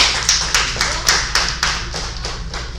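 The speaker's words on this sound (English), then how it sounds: "Give him a round of applause." Scattered claps from a small class applauding a student in an online class session, a few distinct slaps at first, then thinning into a light patter, close and fairly loud with no talking.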